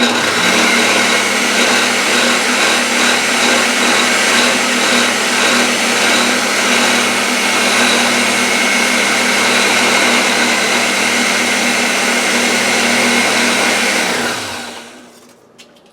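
An electric mixer runs steadily at high speed through the ingredients for a no-bake strawberry cheesecake, a loud continuous whir with a low motor hum, then winds down and stops near the end.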